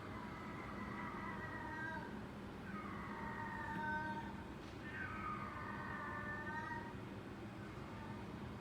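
Cats yowl and fight outdoors on a city block, with three drawn-out, wavering caterwauls rising over a steady rumble of traffic and rain.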